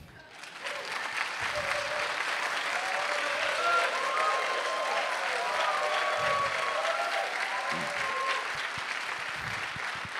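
Audience applause at a corporate lecturer-training session, a steady wash of many people clapping that swells quickly and holds at an even level for several seconds.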